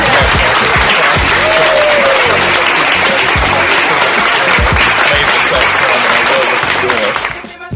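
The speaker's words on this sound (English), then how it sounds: "Y'all give him a round of applause." Studio audience applause greets a special guest on a podcast, steady clapping and crowd noise filling the whole stretch at close range, with some voices mixed in.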